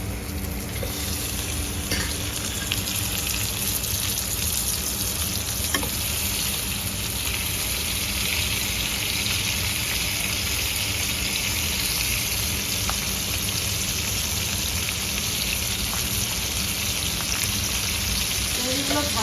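Shrimp coated in salt and turmeric frying in a hot pan, giving a loud, dense, continuous sizzle that holds steady for almost twenty seconds.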